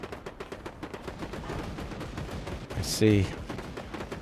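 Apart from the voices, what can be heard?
gunfire and bullets in a video game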